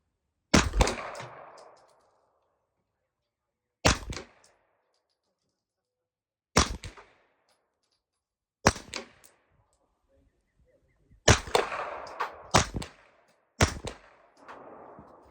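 Suppressed 9mm shots from a Stribog SP9A3 carbine, fired as single rounds and quick pairs with long silent gaps between them, each a sharp close crack with a brief decaying tail, and no talking.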